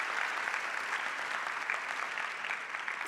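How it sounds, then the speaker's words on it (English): Audience at a commencement ceremony applauding steadily, a dense sustained wash of clapping from a large crowd throughout, with no voices standing out. "Give them a great round of applause."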